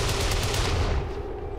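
A rapid burst of gunfire in XCOM 2, sharp repeated cracks in quick succession, loud and close, cutting off after about a second into a fading tail.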